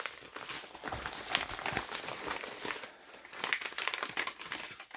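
Wrapping paper on a birthday gift crackles and crumples continuously as it is torn open, close and fairly loud, in dense bursts over a few seconds with no talking.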